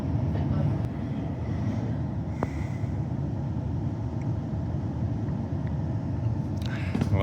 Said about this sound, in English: We had to wait for the tilt train to go past again.